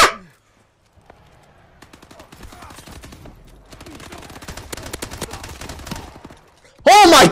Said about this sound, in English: I'm not just firing it in two shots, it is a burst fire gun.